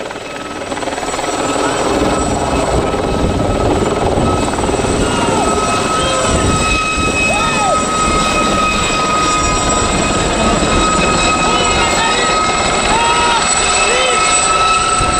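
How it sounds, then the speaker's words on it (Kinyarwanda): A helicopter that carried commandos flies away from a stadium ceremony, its steady rotor roar filling the whole stretch loudly and continuously, with crowd noise and voices underneath. "indege yari yabazanye irisubiriye inyuma."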